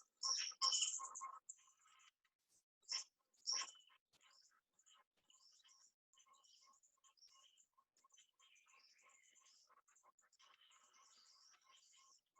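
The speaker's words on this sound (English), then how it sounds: "we just heard this bird calling" A bird in Costa Rica gives a few sharp, bright chirping calls up close, then a long quiet series of faint, rapid ticking notes follows.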